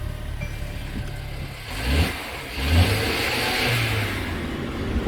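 A 2018 Mercedes-Benz C300 with a four-cylinder turbo engine starting up, a short crank followed by a rising rev and a steady idle hum close by inside the car.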